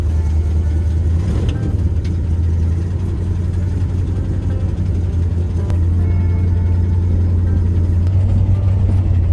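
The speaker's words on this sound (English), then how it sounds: "Let's go for one more last drive for Dwayne." An old International pickup truck's engine drones on a drive, a loud steady low rumble with a strong bass hum that holds throughout without a break.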